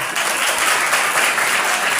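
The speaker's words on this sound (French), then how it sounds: "je vous demande de les applaudir s'il vous plaît" A school audience at a student contest final at Collège Presbytéral St-Paul applauds the sixth-grade girls, a loud, dense, continuous burst of clapping throughout.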